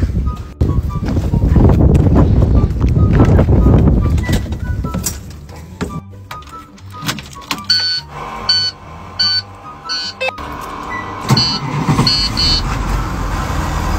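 A school bus diesel engine cranks with the ignition key and catches, a loud rumbling start that settles into a steady idle, followed by a run of short electronic beeps and chimes over the engine.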